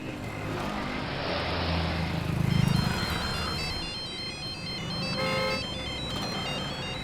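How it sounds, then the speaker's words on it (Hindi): A phone ringtone plays on and on over a steady background hum, repeating its tune with no answer. "दीदी फोन नहीं उठा रही।"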